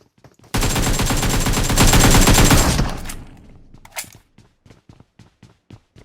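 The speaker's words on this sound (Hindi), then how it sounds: "आगे फायरिंग हो रही थी" Loud, close automatic gunfire from the PUBG Mobile video game rattles in one sustained burst of about two seconds, then fades into quieter rapid footsteps running.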